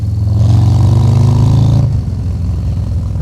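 A Harley-Davidson Low Rider ST motorcycle engine rumbles loud and close, holding a steady throaty drone before easing off to a lower idle-like chug.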